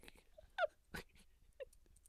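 Short, faint dog whimpers, a few brief whiny cries spread across a quiet moment with light background noise.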